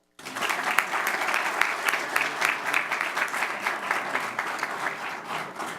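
An audience at a school board meeting breaks into steady applause, a dense patter of many hands clapping that starts abruptly and carries on evenly, fairly close, without speech over it.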